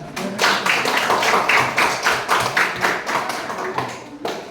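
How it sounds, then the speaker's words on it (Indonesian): Classroom audience claps for a group presentation in a burst of rhythmic, fairly loud hand claps that pulse steadily for several seconds before trailing off. "mari kita tepuk tangan"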